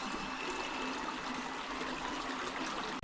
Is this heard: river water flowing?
yes